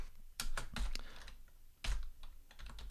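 Rapid bursts of keystrokes on a computer keyboard while writing Webpack configuration code for a React development setup, clicking in uneven clusters with short pauses, close and clear with no talking.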